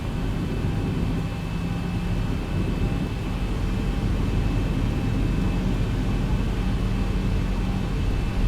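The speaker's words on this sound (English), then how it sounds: "So we will initially power up when we take off" A Boeing 737 in the X-Plane 11 simulator powers up for takeoff, giving a steady, loud, low jet engine roar with a constant whine above it that holds for the whole stretch, with no voices.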